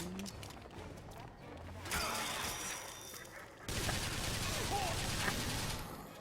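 Machine gun fire in the video game BioShock Infinite, sustained rapid bursts with crashing impacts that grow louder partway through, steady and dense to the end.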